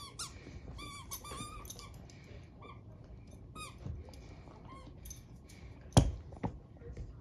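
A squeaky dog toy squeaked in repeated short, high, bright bursts at close range, with brief rustling between them and a sharp knock and thump near the end.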